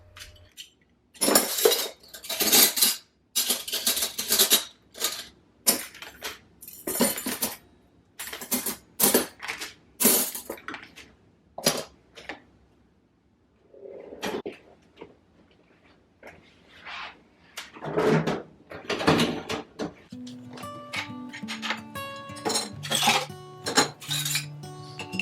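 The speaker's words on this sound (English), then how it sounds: "I thought it would give you a little silverware ASMR." Silverware is handled and sorted in a kitchen: close, bright metallic clinks and jangles come in quick bursts with short pauses, then dishes knock and chime softly toward the end, with no talking.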